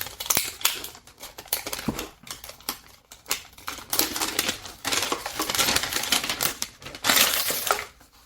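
Packaging is peeled off the stand of a smart display, with continuous close crinkling and rustling of plastic and paper, some of it louder and rougher, and no talk.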